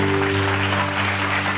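Brief burst of hand clapping from a church congregation during a Bible study sermon, loud and close over a steady low hum.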